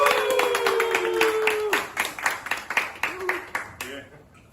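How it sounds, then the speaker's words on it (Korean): An audience applauds a guest speaker arriving at an indoor lecture for a yacht school's engine class, brisk clapping that starts dense and thins into scattered claps, with a voice talking over the opening seconds. "한승윤 사장을 박수로 맞이합시다."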